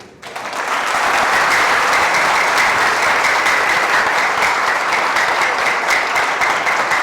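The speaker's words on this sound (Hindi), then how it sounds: "वो तालियां बताती हैं कंटिन्यू।" Sustained, dense applause from a studio audience on a comedy show, rising quickly after a short quiet start and holding loud and steady throughout.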